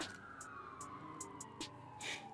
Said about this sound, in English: as the Sirens go out on the outside.